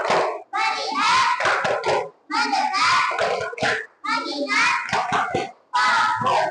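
Children in a grade 3 primary school classroom clap a rhythmic counting routine in quick bursts, with short pauses between sets, along with their chanting voices.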